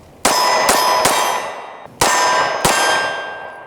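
Five sharp, loud gunshots from a Glock 26 9mm pistol, fired close by in two groups, three quick shots then two, each with a ringing, clanging decay and no talk.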